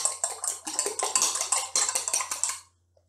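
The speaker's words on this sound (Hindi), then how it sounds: "अंडे आपने फेंट लेने हैं अच्छी तरह से" Eggs being whisked in a cup for roghni naan, a rapid run of clinking, tapping strokes of utensil against the cup, close and steady for a few seconds before stopping.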